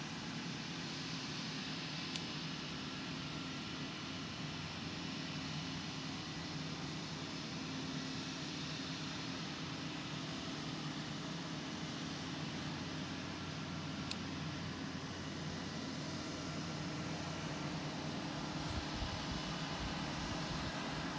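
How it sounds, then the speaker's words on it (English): Wind blows hard outdoors as a broad, steady roar that stays constant for the whole stretch, with no one talking. "Wow, it's very windy outside."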